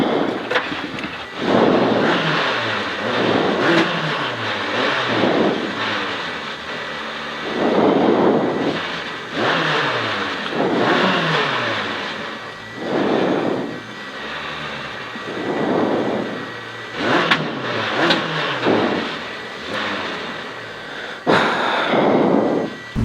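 Renault 19 F2000 rally car engine losing revs, a loud throaty drone that rises and sags in repeated surges, with no talk over it.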